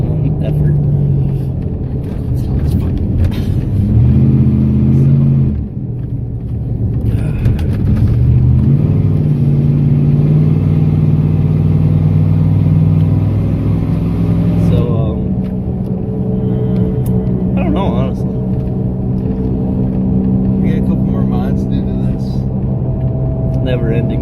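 A truck with little power labors through a hard acceleration, its engine rumbling and revving loudly and steadily throughout while people talk over it.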